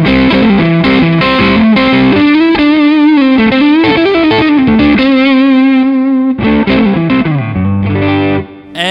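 Loud, distorted electric guitar through a Tech 21 Richie Kotzen RK5 SansAmp pedal with the boost engaged, playing a sustained, bending lead line with chords, steady throughout and without talk.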